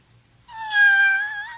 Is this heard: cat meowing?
yes